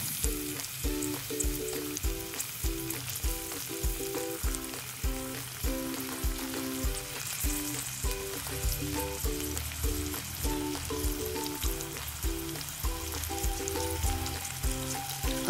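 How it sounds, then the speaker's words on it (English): Vegetables and onions sizzle and crackle steadily in a hot pan, with a dense frying hiss and regular scraping stirs running throughout, no voices. "Now start adding the vegetables and start frying them."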